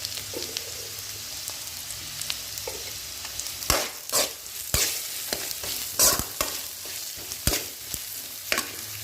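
Ivy gourd fries in oil in a pan with a steady sizzle, while a spoon or spatula stirs it in irregular clattering scrapes that grow more frequent partway through, close by and with no talking.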